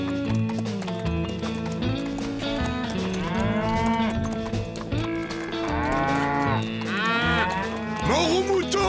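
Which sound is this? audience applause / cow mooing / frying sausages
cow mooing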